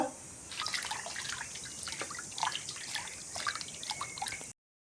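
Water dripping and trickling from soaked leafy greens into a steel strainer, close, irregular patters and drips over a quiet background, ending abruptly.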